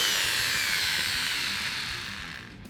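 A rotary hammer bores into wood during an electric guitar build, a loud, steady high-pitched whir that runs alone and eases off slightly toward the end.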